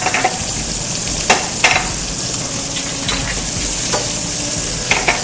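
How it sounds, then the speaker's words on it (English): Mushrooms sauté in a hot pan with a dense, steady sizzle close by, broken by a few sharp scrapes and taps of a utensil stirring against the metal. "To roughly saute the mushrooms"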